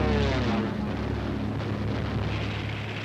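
Luftwaffe military aircraft flying overhead, a steady droning engine roar with wind noise, continuous and fairly loud for the whole stretch.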